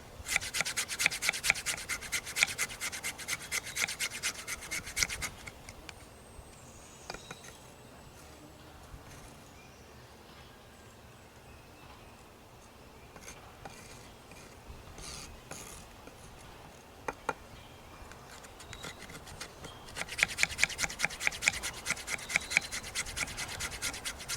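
A Condor Aqualore knife scrapes fine wood shavings for tinder, giving rapid rasping strokes in two close, steady bursts at the start and end, separated by a quieter stretch with only a few scrapes.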